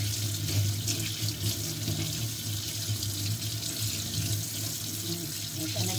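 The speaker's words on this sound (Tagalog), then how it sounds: "ngayon, hugasan natin yung ating egg yolk" Steady stream of tap water running into a sink while cured egg yolk is rinsed, a constant close hiss and splash with no break throughout.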